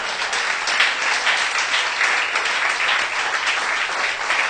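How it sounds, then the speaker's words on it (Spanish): A church congregation applauds during a pastor's sermon, a steady, dense wash of many hands clapping together at an even level from start to finish. "Denle un fuerte aplauso a Dios"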